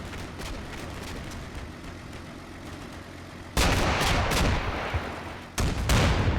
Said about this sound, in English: And the 25mm come in just as we fire the tow. And obviously he starts to hit us.